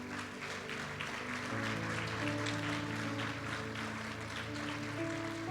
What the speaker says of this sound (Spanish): un aplauso fuerte a Jesús por eso